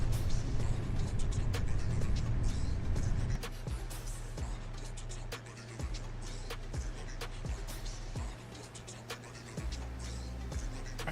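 A Ford Super Duty 350/3500 pickup truck engine in Farming Simulator 25 gives a steady, close drone with faint periodic clicks. It runs louder for the first three seconds, then settles into a lower, even hum.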